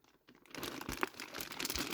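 Near-silence gives way to close, quiet crinkling as a plastic bag is handled, with irregular rustles and crackles.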